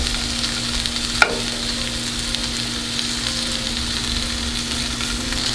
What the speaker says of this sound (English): she's gonna stir it in well until smooth